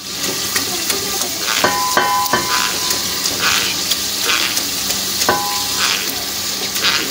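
Garlic ginger paste and green chillies fry in a pan for biryani, a continuous loud sizzle and crackle with occasional scraping stirs, close up.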